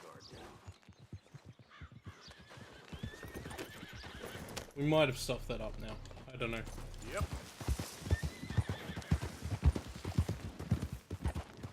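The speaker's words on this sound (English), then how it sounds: "Look at all these wild horses running around here." Wild horses gallop and neigh in Red Dead Redemption II: a loud, drawn-out whinny rises midway over thudding hoofbeats, while someone talks on and off throughout.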